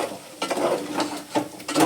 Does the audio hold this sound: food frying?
yes